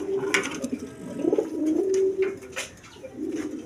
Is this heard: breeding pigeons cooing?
yes